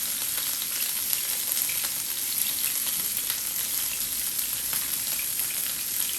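A sirloin steak sears in a hot pan with a steady, dense sizzle that runs loud and unbroken from start to finish, with no talking.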